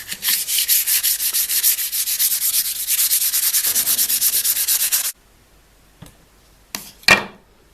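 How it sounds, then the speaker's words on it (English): A strip sander smooths a rough wooden khopesh blade, grinding steadily for about five seconds with a rhythmic pulsing rasp, then cuts off, followed by a few brief scraping touches. "I'm just going to take it over to the strip sander, and it's a bit rough from the spoke shave"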